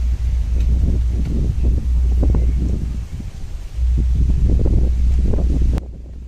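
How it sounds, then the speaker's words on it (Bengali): Strong wind buffeting the microphone outdoors, a loud continuous rumble that dips briefly midway and drops off near the end. "পাখি ডাকছে, হাওয়া দিচ্ছে, প্রচণ্ড হাওয়া।"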